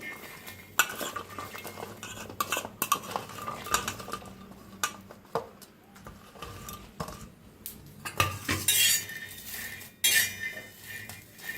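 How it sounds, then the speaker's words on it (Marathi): Green chillies and peanuts dry-roasting in a pan while a metal spatula stirs them: close clinks and scrapes against the pan come in uneven bursts over a faint crackle, louder near the end, with no speech. "असं हलवून भाजून घेऊया, डाग पडत तर मिरच्या।"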